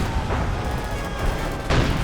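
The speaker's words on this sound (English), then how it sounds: "at the same time mortar rounds going in" Mortar rounds firing and impacting in the Company of Heroes 2 video game, with dull booms and bursts amid continuous battle noise, heard under a commentator's talk.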